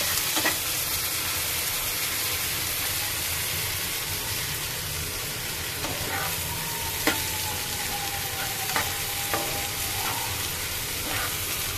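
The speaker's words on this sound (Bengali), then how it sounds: "একটু ভালো করে নেড়ে নিতে হবে," Onions fry in a wok with a constant dense sizzle while a utensil is pushed through them, giving occasional sharp scrapes and taps against the metal.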